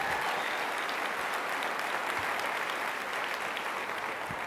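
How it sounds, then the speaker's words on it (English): Sustained, dense applause from a large audience at a real estate agents' retreat in Las Vegas, steady and loud throughout with no gaps. "big round of applause for God's sakes"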